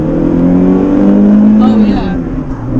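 A modified, cammed Renault Clio 182 engine holds a loud, droning rev that climbs slightly before easing off, heard from inside the car with a voice talking over it.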